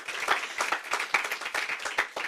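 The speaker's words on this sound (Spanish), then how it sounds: "Dale otro aplauso al Rey, porque Él es único, digno." A church congregation applauding, a dense, steady patter of many hands clapping at moderate distance, with no voices over it.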